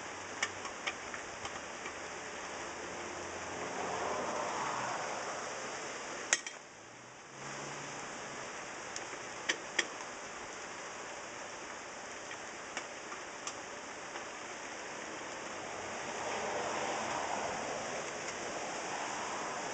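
Steady warm rain falls outdoors throughout, a broad hiss with scattered sharper drips and ticks, briefly dipping quieter midway before swelling again.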